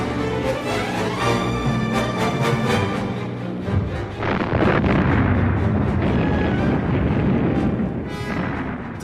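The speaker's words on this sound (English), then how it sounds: "the Allies then bombed it" Allied bombs explode on the monastery at Cassino in WWII, a dense barrage of heavy booms and rumbling blasts over a musical tone, growing rougher and more continuous midway through.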